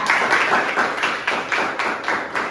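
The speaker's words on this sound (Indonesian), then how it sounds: "Kalau gitu tepuk tangan yang sekali untuk kelompok 3." A classroom of children gives a group presentation round of applause, sounding as a run of roughly rhythmic, slightly ragged clap bursts at close-to-moderate distance, about nine pulses over a couple of seconds with no talking.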